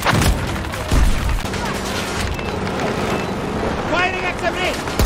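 XM370A airburst launcher firing in Battlefield 2042: a few heavy, booming shots punch through dense, steady battlefield noise, with shouted in-game voice callouts near the end.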